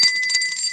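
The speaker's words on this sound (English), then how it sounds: "And we have our bell." A small hand bell rings once with a bright, sustained metallic tone that slowly decays, heard alone and close up.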